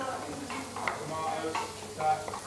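Fish sizzling and frying in a hot pan, a steady close crackle with soft scraping stirs from a spatula, heard without any talking.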